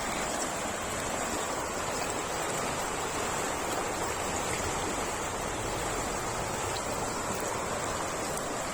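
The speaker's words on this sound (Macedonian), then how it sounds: "Видите колку убава вода." Flowing water of the Treska river in a snowy landscape, a steady, dense broadband rush that stays even and continuous throughout, close to the listener with no voices over it.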